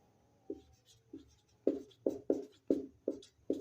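Chalk or marker strikes and scrapes on a board during a physics lesson, a series of short, sharp, close taps and strokes in an uneven rhythm, heard on their own without talk.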